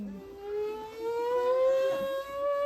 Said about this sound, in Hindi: स्पोर्ट बाइक चल रही है